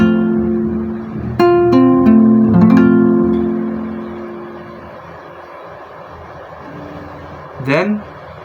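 Guitar chord strummed a couple of times, ringing notes that decay over a few seconds amid room noise, followed by a short sliding squeak.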